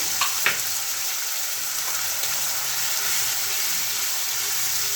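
Pepper fish curry with yogurt sizzling over a medium flame while being stirred, a steady close bright frying hiss with a couple of soft knocks near the start.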